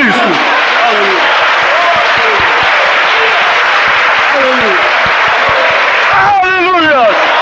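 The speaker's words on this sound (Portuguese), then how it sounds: "Se foi para o bem, então aplauda Jesus Cristo" A church congregation claps loudly and steadily throughout, with voices calling out over the applause and a louder vocal burst near the end.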